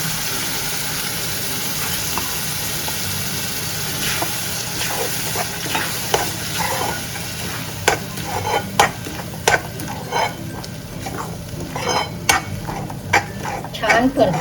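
A paste of ground peanuts and poppy seeds, added after fresh coconut for a Maharashtrian poppy seed curry, is stirred and sautéed in a pan, with a steady sizzle and repeated sharp spatula scrapes and clinks growing more frequent.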